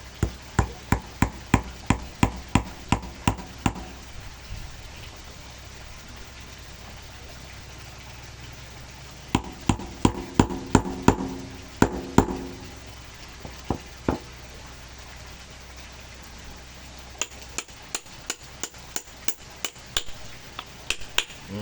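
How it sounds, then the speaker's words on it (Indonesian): Nails being hammered into a homemade meatball-maker tool: quick rhythmic runs of sharp strikes, a burst at the start, another mid-way and a final series, with quiet pauses between. "setelah itu kita bisa pakai baut, bisa kita paku ya, paku aja teman-teman ya."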